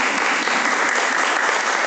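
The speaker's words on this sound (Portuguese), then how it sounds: "dê uma salva de palmas à palavra de Deus." Church congregation applauding after a Catholic sermon reading, a loud, dense and steady roar of clapping that fills the whole brief moment without any voices.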